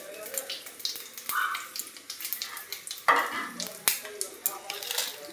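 Whole garam masala spices and dried red chilli sizzling in hot oil for a paneer curry, a steady crackling fry with sharper spits and stirring clatter close by.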